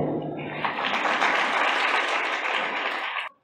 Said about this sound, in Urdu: بھائی امتیاز کے لیے تالیاں۔